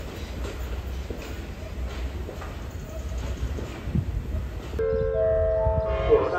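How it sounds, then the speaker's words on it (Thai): A delayed southern-line train pulls out of Salaya station, a continuous rumble with faint rhythmic clatter of wheels on rails, followed at the end by a sustained horn-like tone. "ขบวน 8C ออกสารยาครับช้าไป5ชั่วโมง"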